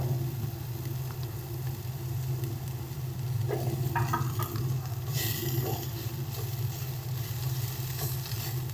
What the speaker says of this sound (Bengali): এবারে দিয়ে দিচ্ছি কাঁচা লঙ্কা রসুন